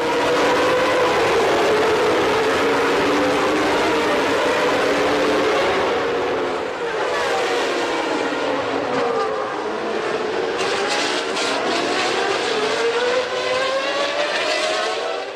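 Formula 1 cars at the 1993 Portuguese Grand Prix start howl loudly as they accelerate, their high-pitched engine whines rising and overlapping continuously.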